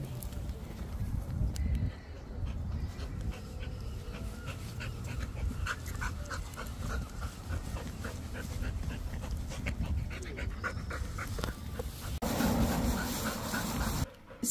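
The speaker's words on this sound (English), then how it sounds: "I don't know if you can hear the dog panting in the background." A dog pants rapidly and rhythmically close by, a steady huffing pattern over ambient outdoor noise, with faint footsteps underneath.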